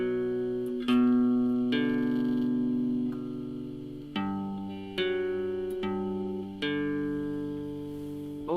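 An electric guitar plays an intro riff, picking single notes that ring out and overlap, several let-ring phrases in a slow steady rhythm, clean and close with no voice.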